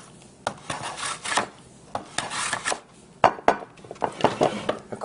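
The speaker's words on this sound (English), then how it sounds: "I'm slicing it." A knife slices vegetables into quarter-inch pieces on a board for dehydrating, giving a series of close, uneven rasping cuts and taps.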